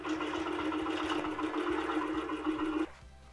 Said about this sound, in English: Stitch from the top of your quilt down the side until you reach the end of your throat space.